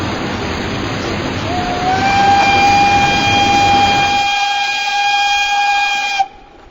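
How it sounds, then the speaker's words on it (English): A coal-fired steam engine train gives a long, loud, steady steam whistle tone over roaring noise, ending with an abrupt cutoff near the end. "Let us watch the steam engine in action."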